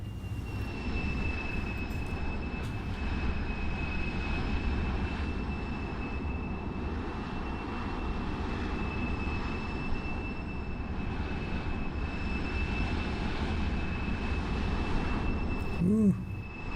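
Small airplane engine drones steadily and close inside the cabin while the plane drifts toward the side of the runway in wind, with a constant high whine over the engine rumble.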